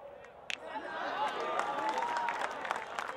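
Spectators at a local cricket tournament match applaud and cheer after a boundary, a broad wash of clapping and crowd noise that swells and holds steady, heard from a distance with voices mixed in.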